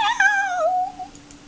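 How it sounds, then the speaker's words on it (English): A house cat lets out one clear meow that rises and then glides downward before it fades. It is close and loud in an otherwise quiet room. "Meow."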